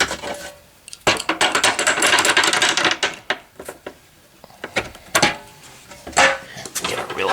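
A ratchet and metal tools work on a radiator bolt of a 2006 Acura TSX, giving bursts of quick ratcheting clicks and metallic rattles broken by short pauses and sharp clanks nearby.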